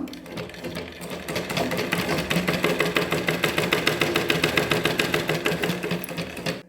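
A sewing machine runs along the folded edge of an old nightie, its needle chattering in a quick, even rhythm at close range.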